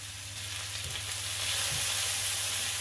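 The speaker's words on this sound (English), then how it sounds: "I'm going to carry on frying up the vegetables" Vegetables fry in a pan with sesame oil, giving a loud, continuous close-up sizzle that grows a little stronger partway through, with occasional soft stirring and no talking.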